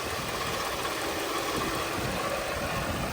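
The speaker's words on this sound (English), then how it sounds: "So this is the E500 wagon with Supercharger." Mercedes E500 wagon with a supercharged M113 5.0 V8 idling, a steady, smooth low rumble with a constant broadband whir, close by and even throughout with no revving.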